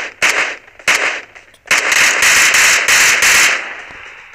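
Rapid bursts of gunfire from PUBG Mobile, a few separate shots followed by a sustained loud volley, close and harsh with no talk over it.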